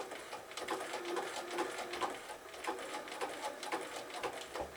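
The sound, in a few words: sewing machine zig-zag stitching applique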